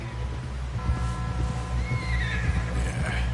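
A horse in Red Dead Redemption 2 whinnies in a rising call near the end while hooves clop steadily beneath, set against a constant low rumble of game ambience and music.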